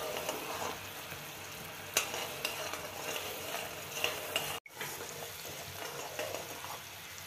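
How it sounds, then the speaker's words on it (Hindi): Sugar syrup for sweet mathri simmers in a pan, a soft, quiet bubbling hiss with a few faint utensil knocks and a brief dropout partway through. "चाशनी में अच्छी तरह से उबाल आ गया है"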